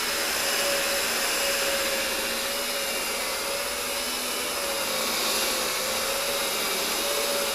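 A power drill with a scrubbing brush works cleaner into a car's floor carpet and mats, giving a steady, loud whirring motor drone with a constant pitched whine and scrubbing hiss throughout, no talking.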